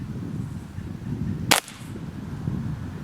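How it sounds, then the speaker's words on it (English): A single sharp crack from a Beeman Grizzly X2 .22 air rifle, fired at a pumpkin beside a blueberry bush outdoors using Polymag or Exact Jumbo Diablo pellets. It sits midway through a steady low background, with no voices. "So I'm gonna try to not hit the blueberry bush as I shoot."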